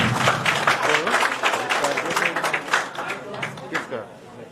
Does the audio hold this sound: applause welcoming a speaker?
yes